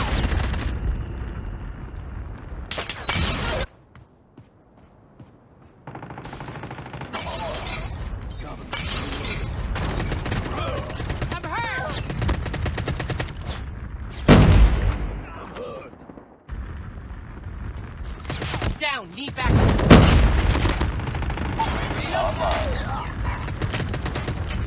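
Gunfire from a Call of Duty Mobile match: loud bursts of shots and sharp impacts, some shattering, repeat through a busy mix of game effects and brief gaps, with a few louder blasts near the middle and end.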